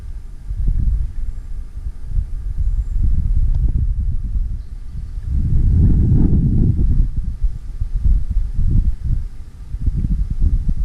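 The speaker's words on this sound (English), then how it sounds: "A little windy though." Gusty wind at a backpacking campsite in Grayson Highlands buffets the microphone in heavy low rumbles that swell and fade, strongest in the middle.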